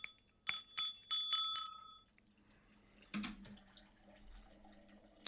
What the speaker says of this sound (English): Yeah, I rang the bell and everything.